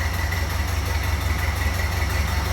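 A 1930 Ford Model AA truck engine idles steadily, a low, even, throbbing rumble heard close up from behind the truck, running continuously with no voices.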